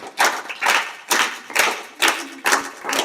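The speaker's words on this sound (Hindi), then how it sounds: "दोबारा जोरदार तालियां बजाओ बहन जी" Students in a classroom clap in about five separate bursts of a few claps each, close and fairly loud, with no talk over them.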